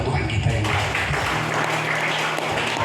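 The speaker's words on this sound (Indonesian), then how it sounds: "Tepuk tangan buat Tuhan kita yang baik." A church congregation at an Indonesian healing revival service claps in steady, continuous applause that fills the room at moderate loudness.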